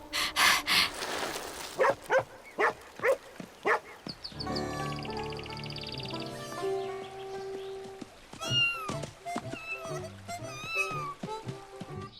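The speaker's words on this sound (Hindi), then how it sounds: "एक बिल्ली। ये किटन है।" An injured kitten mewing in short, high, repeated cries, close and fairly loud, mixed with other animal noises and soft breathing within a dramatic scene with background music.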